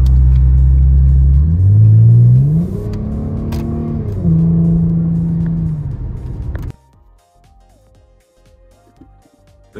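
A car on a long road trip through Poland, its engine rumbling loud and close and rising and shifting in pitch as it accelerates, then cutting off abruptly near seven seconds into quiet.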